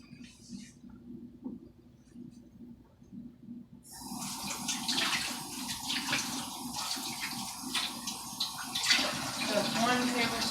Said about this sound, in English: you have to add 2 tablespoons of cold water